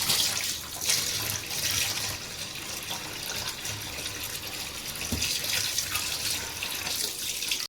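Fish is washed under a running kitchen tap, with a steady, fairly loud splashing flow of water into a sink that continues throughout, with small shifts as hands move the fish.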